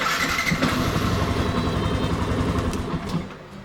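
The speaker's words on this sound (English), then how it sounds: "now I'll give it a go without any throttle, with just touching the throttle. Just leave it aside and just start it." Yamaha FZ v2.0 motorcycle with a starting problem being cranked without throttle: a steady, close, loud rapid chugging of the starter and engine that runs continuously, then eases off near the end.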